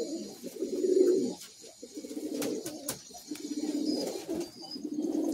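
Madrasi high-flying pigeons coo in a loft in Kolkata, a steady close chorus of low throaty rolls with brief pauses between phrases.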